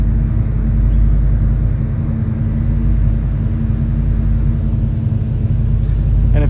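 A Lexus LFA engine gives a low, steady rumble that holds close and loud throughout, idling without sharp revs.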